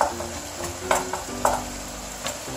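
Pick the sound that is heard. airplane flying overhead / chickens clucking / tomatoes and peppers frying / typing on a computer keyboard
tomatoes and peppers frying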